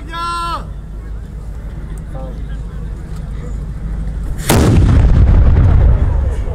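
A historical cannon fires at a reenactment marking Brno's defence against the Swedes, one sudden loud blast with a long rumbling tail, preceded by a short whistle and crowd murmur.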